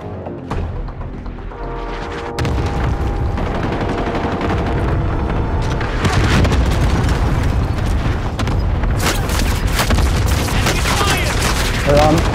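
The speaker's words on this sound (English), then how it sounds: "Allied cluster strike inbound." Cluster strike explosions in a video game battle, a heavy barrage of booms and rapid gunfire that builds into a continuous loud rumble, with voices briefly heard amid the chaos.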